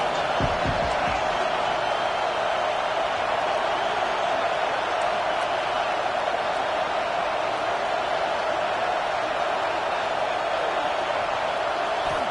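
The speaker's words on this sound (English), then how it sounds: "This crowd trying to make life miserable for this offense." Stadium crowd at a football game as a steady, dense roar of many voices, continuous and loud throughout with no breaks, a faint thud near the start.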